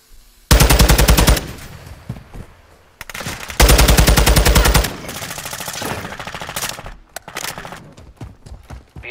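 Rapid automatic gunfire from a Call of Duty Modern Warfare II free-for-all multiplayer match: long, loud bursts of fast shots repeat several times with short pauses, followed by scattered single shots and quieter trailing fire, with no speech over it.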